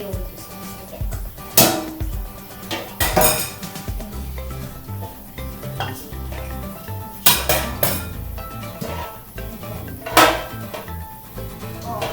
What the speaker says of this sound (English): maybe we'll just whisk again